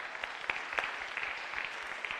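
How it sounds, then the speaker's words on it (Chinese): Applause from a church congregation during a Sunday service, a steady patter of many hands clapping with a few sharper claps standing out, moderately near and continuous. "我们鼓掌"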